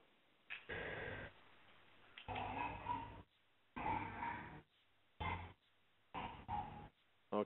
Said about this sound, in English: I can hear a dog somewhere in the background. He's barking